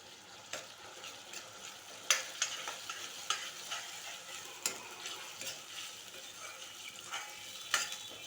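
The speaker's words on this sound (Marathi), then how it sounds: "चला आता ह्यामध्ये आपण आलं लसून पेस्ट घालून घेऊया" Ginger garlic paste frying in a pan for a potato and masoor lentil dish, a soft steady sizzle with irregular clinks and scrapes of a spoon against the pan, close and quiet.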